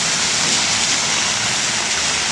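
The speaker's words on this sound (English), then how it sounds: "now look at this bloody rain" Steady, dense rain pours down, a continuous loud hiss with no pauses.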